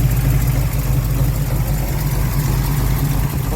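A 1969 Chevrolet El Camino with a 454 V8 and a broken motor mount runs at a steady idle, with a deep, continuous low rumble held close and even for the whole stretch.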